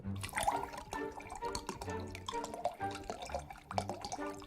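Liquid pouring in the video game Card Shark, a wet trickling and dripping heard through the game's audio alongside layered musical tones, moderately loud with no talk.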